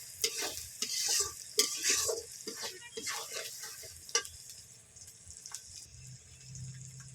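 Ginger and garlic paste frying with salt in a wok sizzles and spatters, with repeated scraping stirs early on that ease into a quieter sizzle.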